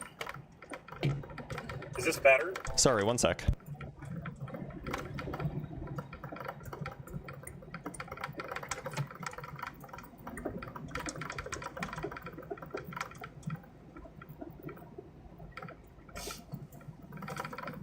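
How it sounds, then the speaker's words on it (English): Fast, continuous keyboard typing fills the clip, with a louder clatter early on and a person briefly speaking over it. "it sounds like you're typing vigorously."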